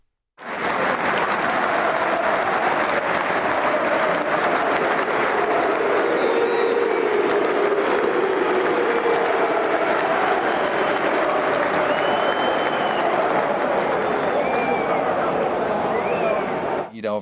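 A packed football stadium of Chelsea fans holds a minute of applause for Ukraine, a continuous loud roar of clapping and crowd noise that stays steady throughout, with faint whistles and shouts riding on top.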